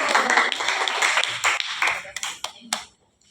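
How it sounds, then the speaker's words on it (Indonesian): Students in a classroom clap for a group after its presentation, a burst of uneven hand claps and taps that thins out and stops near the end. "Beri tepuk tangan untuk kelompok 1."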